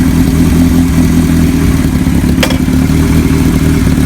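A 1975 Kawasaki Z1900 motorcycle engine runs on the road with a steady, loud, close rumble and a brief sharp click partway through, with no talking.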